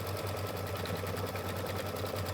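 An embroidery machine stitches through tape and stabilizer for a quilt block, giving a steady, continuous mechanical hum with a low motor drone that runs unbroken at an even level throughout.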